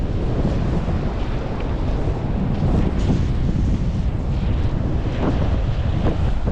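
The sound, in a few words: wind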